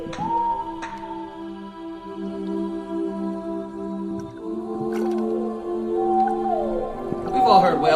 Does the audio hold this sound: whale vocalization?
yes